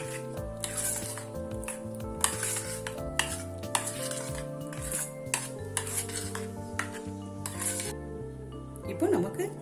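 A chocolate sandwich filling being stirred and mixed in a bowl, with soft repeated scraping and light clinks of a utensil under steady background music.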